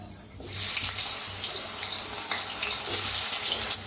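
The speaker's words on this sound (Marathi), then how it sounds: "आता बटाट्याला आपल्याला फ्राय करून घ्यायचं आहे। तर तेल चांगलं गरम झालेलं आहे," A sudden, loud hiss starts as potatoes hit hot oil in a pan, settling into steady, bubbling sizzling that swells again near the end.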